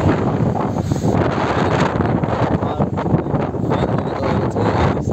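Steady cold wind buffeting the microphone in East Sikkim, a constant broadband roar with no break, loud and close.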